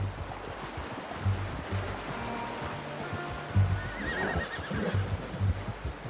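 In the Red Dead Redemption 2 video game, a horse lets out whinnies over the soft clip-clop of hooves and a low rhythmic thumping, with a faint watery wash beneath and no speech.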